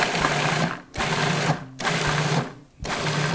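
A food processor pulses cranberries in three short motor bursts of about a second each, separated by brief pauses; the whirring is close and fairly loud.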